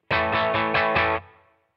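Electric guitar run through a NUX Trident pedal's hall reverb, five crisp strummed chords in a steady rhythm, then a spacious decaying tail that rings and dies away, loud and alone with no speech.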